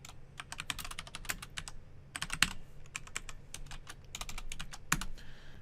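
Steady typing on a computer keyboard while entering Python code, with irregular bursts of crisp key clicks and a few heavier keystrokes, close and fairly quiet with no talk over it.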